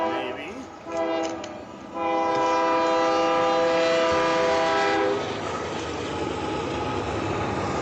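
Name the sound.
manifest freight train with SD70ACE locomotive passing, horn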